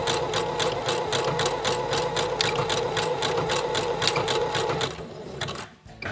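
A sewing machine stitching through a coiled rope basket runs in a steady, fast mechanical rattle for about five seconds, close and loud, then slows and stops.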